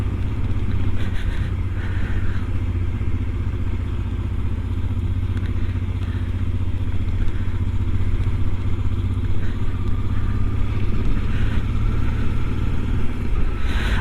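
A Honda Transalp motorcycle is ridden, its engine a steady loud low drone with rushing wind noise throughout, heard from the rider's position without talk.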